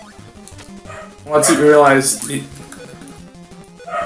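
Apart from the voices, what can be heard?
dog barking in the background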